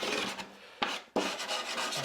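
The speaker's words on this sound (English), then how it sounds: "And a little bit of sanding" Rough, steady rasping of sandpaper rubbing against wood, close up, with a brief pause partway through before the scraping strokes resume.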